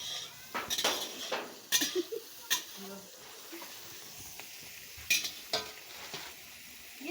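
Vegetables frying in a pan for chow mein, a soft sizzle under repeated clanks and scrapes of a spatula stirring against the metal, with people talking nearby.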